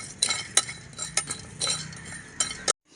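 A spoon clinks and scrapes as whole spices are dry-roasted over a low flame on a nonstick tawa for muri masala, with quick, sharp metallic taps and stirring bursts in an irregular rhythm, close and fairly loud.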